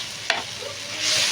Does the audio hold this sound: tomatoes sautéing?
yes